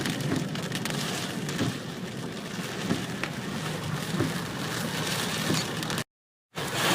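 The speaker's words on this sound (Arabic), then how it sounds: "ما شاء الله المطر على كافة محايل" Steady broadband rain falls across the town of Muhayil at a road junction and market area, a continuous hiss with faint traffic underneath and a brief gap of silence near the end.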